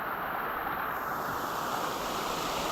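Banagara Kusuma waterfall rushing as a continuous broadband roar, steady and loud without breaks or voices.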